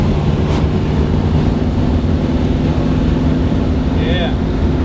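Car engine fitted with a Street Demon carburetor idling steadily before reaching operating temperature, a loud, even low rumble with a faint squeak near the end.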